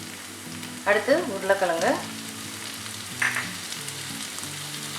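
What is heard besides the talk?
carrot and vegetables frying in ghee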